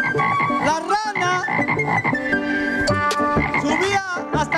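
Frog croaking, loud and continuous, with dense, wavering tonal calls that fill the whole stretch without pause.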